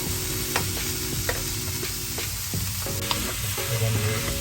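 Pork curry made with roasted black coconut, stirred and mixed in a pan, giving a constant close sizzle with periodic scraping and clinking of the spoon against the pan, no talk.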